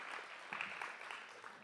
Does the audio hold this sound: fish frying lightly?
no